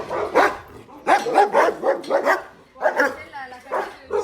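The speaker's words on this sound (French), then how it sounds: "Ça me fait tellement de la peine de voir tous ces chiens sans leur famille." Dogs barking and yipping inside an animal shelter, repeated bursts of close, loud barks with a whimper, overlapping with a person talking.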